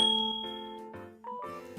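Notification bell sound effect, a bright ringing ding followed by a few quick chiming tones, clean and close with nothing else around it.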